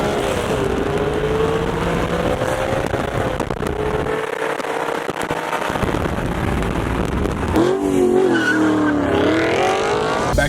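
A 2015 Audi RS5 roars loud and close, engine pitch climbing and falling through hard acceleration, with tires squealing in long smeared skids and a brief drop in the low rumble midway.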